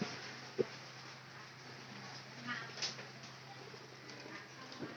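Pigeons in a coop with straw nests, soft low cooing faint against a steady background hum, with a sharp knock and a few light rustles.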